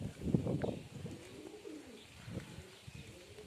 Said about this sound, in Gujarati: આપણે કબૂતર ઉડાડ્યા છે અડધા